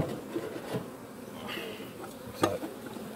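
Honey bees at a hive in Corsica, a soft continuous buzzing of insects close to the microphone, with a brief louder rustle or knock partway through and no talking.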